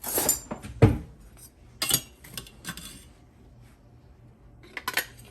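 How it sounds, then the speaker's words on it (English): A metal spoon clinks against dishes and glassware in a home kitchen during cake baking, a few sharp separate clicks and taps spread across the clip, close by and fairly quiet, with brief gaps of near silence between them. "Let's grab a spoon for this."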